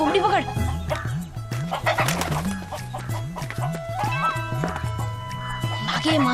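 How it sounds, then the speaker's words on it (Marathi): Chickens cluck repeatedly in a rhythmic series, close by, with people talking and shouting over them and a dog yapping briefly. "अरे कोंबडी पकड"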